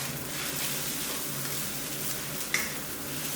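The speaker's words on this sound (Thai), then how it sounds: "จากนั้นก็ใส่คะน้าลงไปได้เลยครับ หอมหัวใหญ่ครับ แล้วก็มะเขือเทศครับ ผัดรอจนผักเริ่มสลดสักครู่นึงก่อนครับ" Chinese kale, onion and tomato stir-fried in a pan over medium heat, a soft, even sizzle with light stirring throughout and one small metallic tick near the end, no voices.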